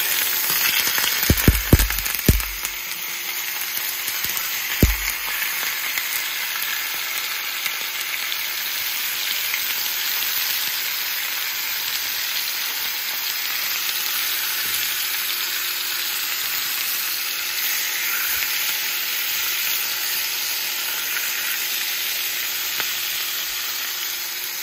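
Pork chops fry in a hot pan with a steady hiss and crackle, a few clunks and thuds early as meat goes in, then continuous even sizzling.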